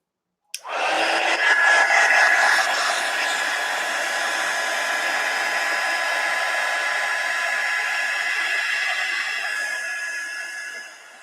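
A hair dryer blows steadily on a ceramic glaze, starting abruptly and holding a loud, even whoosh for about ten seconds before cutting off.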